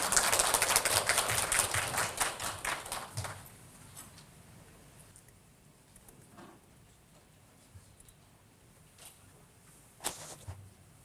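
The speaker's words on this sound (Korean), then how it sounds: "큰 박수로 맞이해 주시기 바랍니다." Audience applause welcoming a medical professor onto a health lecture stage: dense clapping for about three seconds, then thinning to scattered claps, with a brief second burst near the end.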